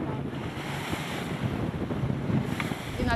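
Strong wind roars at sea off Lesbos, a steady loud rush of gusts buffeting the microphone with the wash of waves beneath, continuous and close with no voices.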